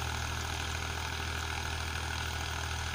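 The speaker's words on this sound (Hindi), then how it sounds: "कोई भी दिक्कत नहीं है इसमें, मौज में चल रहा है ट्रैक्टर। ना कोई आरपीएम ड्रॉपेज" A Powertrac 445 tractor pulling a 7-foot Sonalika rotavator runs at a steady, even engine drone. The drone is loud and continuous, with no change in pace and no voices.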